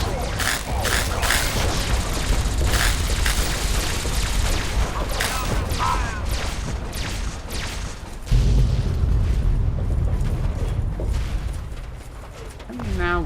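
Explosion in the video game Fallout 3: a deep, sudden boom bursts in about two-thirds through, sitting within a dense, busy wash of game noise and sharp crackling bursts.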